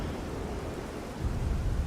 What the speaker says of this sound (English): I hear noises. Lightning noises.